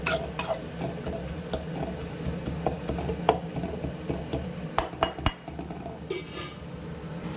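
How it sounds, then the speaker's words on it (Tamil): Turmeric and asafoetida fry in oil while a spoon stirs the pan for a fish curry, bringing soft scraping, a low sizzle and a few sharp clinks of utensil on metal, close up with no voices. "இதையும் நல்லா எண்ணெயிலே ஃப்ரை பண்ணிக்கலாம்"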